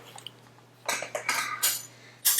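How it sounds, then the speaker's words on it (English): A metal cooling rack is set on a Bundt pan holding a chocolate Bundt cake, then the pan is flipped over. A few close, sharp metallic clinks and clatters sound against quiet, with no voices. "Put the cooling rack right on top, and then just flip it over."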